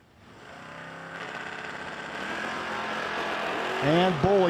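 Drag racing cars, a Camaro lined up against a 1984 Charger, build a steadily rising engine rumble that ends in sharp, loud revving bursts.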